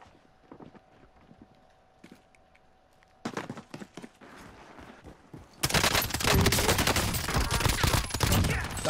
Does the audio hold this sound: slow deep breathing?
no